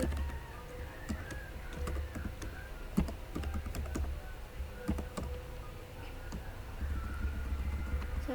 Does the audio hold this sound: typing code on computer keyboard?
yes